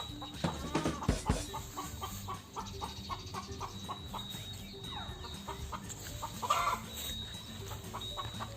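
Chickens cluck repeatedly in a busy farmyard, a rooster-like call rising briefly among the steady clucking and background chatter.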